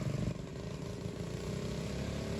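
A Coleman 200 U-EX minibike engine pulls away from a standing start, a loud, close buzzing drone that rises steadily in pitch as it accelerates, with a slight roughness at the start.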